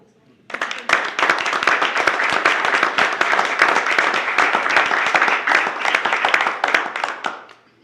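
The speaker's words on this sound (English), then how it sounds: "I don't think it would be out of line if we gave you a round of applause" A round of applause at a county council meeting starts abruptly and holds steady for several seconds, many hands clapping densely before fading out at the end.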